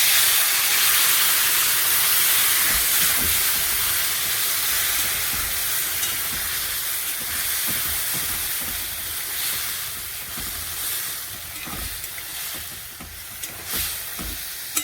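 A paste of onion, green chili, mustard, poppy seed and coconut frying in a pan: a loud, continuous hissing sizzle with scattered scraping taps of stirring that slowly settles a little.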